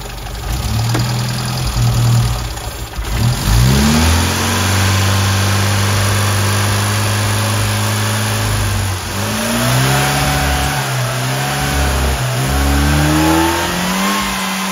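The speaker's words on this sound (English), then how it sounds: "Okay, and try it when we rev it." A Mini car engine being tuned, revved repeatedly from a steady idle, its pitch sweeping up and falling back in several loud, close rises over a constant mechanical hum.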